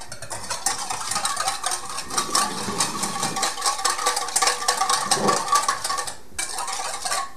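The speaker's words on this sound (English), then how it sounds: "And then I'm going to put in the canola oil and whisk that to emulsify it." Canola oil being whisked into a vinegar dressing in a bowl: rapid, continuous scraping and clinking of a whisk against the bowl, close up, with a brief pause near the end.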